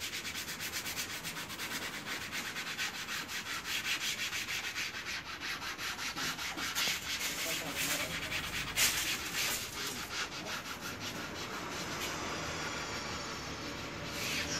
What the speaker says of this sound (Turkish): şu şekil bastırarak zımparalıyoruz